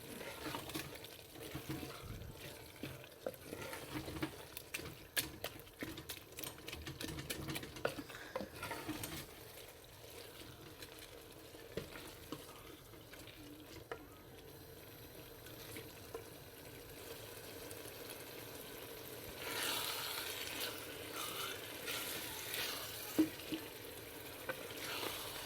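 Coriander powder and red chili powder being stirred into melting tomatoes in a frying pan, a close, continuous scraping and stirring over a light sizzle, with some running water in the background.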